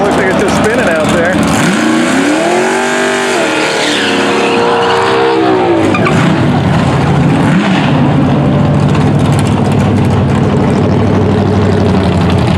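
A Dodge Demon 170 spins its tires at a night drag race, a loud sustained engine roar with rising and falling tire squeal near the start, then a continuous fading drone, with crowd voices mixed in.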